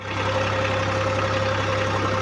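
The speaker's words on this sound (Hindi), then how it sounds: "अभी ड्राइवर साहब थक गए तो मैं ट्रैक्टर चला रहा हूँ" A tractor engine runs steadily in a field while pulling a cultivator and seed drill, a constant low droning hum with a mechanical rattle and no variation in pace, close and fairly loud.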